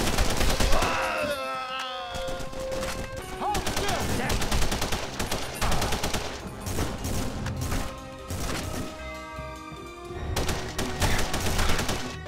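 Rapid bursts of gunfire from a video game by the Saints Row developers, with repeated shots crackling in uneven clusters across the whole stretch, loud and close, amid impacts and crashes.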